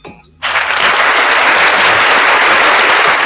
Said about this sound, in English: Can we give her an applause?